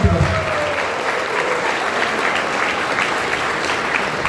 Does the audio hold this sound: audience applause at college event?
yes